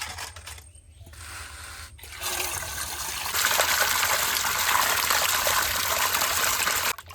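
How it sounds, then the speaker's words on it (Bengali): Koi fish being washed by hand in a bowl of water, with steady splashing, trickling and sloshing that grows louder and denser partway through, close and continuous, with no voices. "মাছ ধোয়া হয়ে গেছে এবার মাছ তুলে নেবো আর জলও পরিষ্কার হয়ে গেছে"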